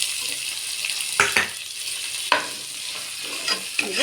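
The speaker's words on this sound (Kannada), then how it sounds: "ಇದು ಚೆನ್ನಾಗಿ ಹುರಿಯೋಣ." Green chillies and onion fry in a pan, a continuous bright sizzle broken by a few sharp stirring scrapes, close and alone without voices.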